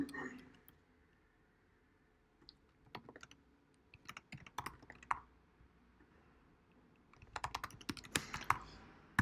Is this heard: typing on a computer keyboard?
yes